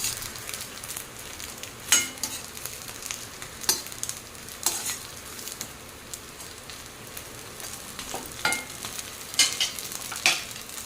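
Food sizzling in a small amount of oil in a pan, a steady soft frying hiss with occasional sharp clicks of stirring, close and quiet, with no talking.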